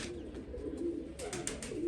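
Pigeons in a loft coo faintly in low murmurs at a moderate distance, with a few sharp rustling or flapping bursts near the end and no speech.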